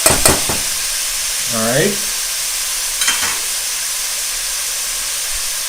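Sausage and vegetables sizzle in a soup pot with a steady hiss and a few clatters of stirring, while a voice speaks briefly at the start.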